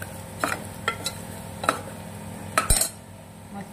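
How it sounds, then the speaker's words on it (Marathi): Red homemade masala being stirred in a pan, a spaced series of sharp scraping and clinking strokes of a spoon against metal over a low background sizzle, close and fairly loud, no talking. "परत छान असं हलवून घेणार."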